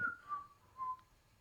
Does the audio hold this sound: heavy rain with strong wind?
no